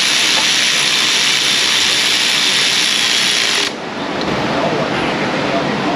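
An extended ratchet works on a car during A/C compressor repair, giving steady dense mechanical clicking and whirring at close range that cuts off partway through into a softer, rougher texture.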